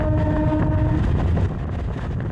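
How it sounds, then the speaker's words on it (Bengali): A Canning local train runs with a loud, steady rumble and rattling carriages, and a drawn-out horn sounds over the din early on before the noise eases slightly. "তো বন্ধুরা, ট্রেনে উঠে একটা স্টেশন যেতে না যেতেই আমি বসার জন্য জায়গা পেয়ে যাই"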